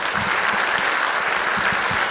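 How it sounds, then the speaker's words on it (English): An audience at a formal high school assembly gives a loud, dense round of applause, steady clapping with a roomy, crowded feel throughout. "Another round of applause,"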